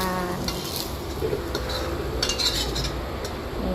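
A metal spatula scrapes and clinks against a pan and plate as oil-free fried Chinese sausage is scooped out, with short, close utensil knocks over a soft background hiss.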